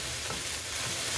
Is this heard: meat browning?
yes